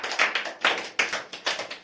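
Quiz show audience applauding a correct answer in a short burst of claps, several sharp overlapping slaps in a loose rhythm, close and fairly loud.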